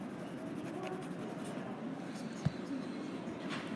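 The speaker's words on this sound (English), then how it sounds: "Erase some of this down here." A pencil eraser rubbing on paper during a decimal division worksheet, a soft steady scratchy friction close by, with a brief tap midway.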